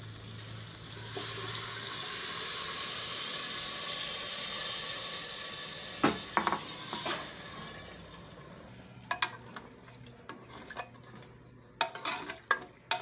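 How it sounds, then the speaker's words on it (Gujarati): Steady rushing water pours into a pot of cracked wheat for several seconds, then gives way to scattered clinks and scrapes of utensils against the metal pot. "તો ચાર ઘણું પાણી આપણે આમાં"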